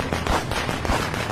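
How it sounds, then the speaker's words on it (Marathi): Firecrackers burst at a political speech gathering, a quick run of loud, sharp cracks and pops close together over a noisy crowd background. "अरे काय एवढे फटाके वाजवता रे"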